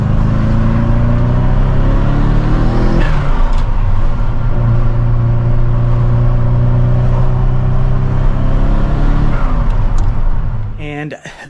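A turbocharged restomod Ferrari Mondial engine revving loud and close, a sustained throaty roar that climbs in pitch, dips, and climbs again before cutting off sharply at the end.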